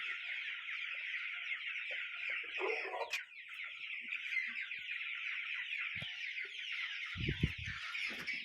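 Twelve-day-old chicks keep up dense, continuous peeping and clucking at close range, with a few scattered knocks and soft thumps near the end.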